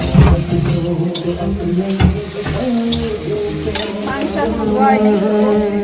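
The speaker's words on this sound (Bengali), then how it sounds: "আর এটা ঘিয়ে ভাজছে এখন চাল" Rice and potatoes frying in ghee while being stirred, a steady close sizzle with scraping spoon strokes and faint metallic clinks throughout, with no talking.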